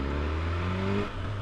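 A BMW M1000R naked motorcycle, 210 bhp, accelerates hard in third gear, its engine note rising steadily and loud up close, then the throttle briefly eases near the end before droning on.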